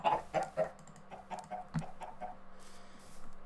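Chicken clucking in the Minecraft video game, a string of short quick clucks in a rapid rhythm, fairly close and moderately loud, followed by a softer tail of game ambience without talk.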